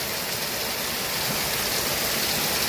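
Wild chinchda vegetables are washed under running clean water, a steady, close rushing stream with no breaks.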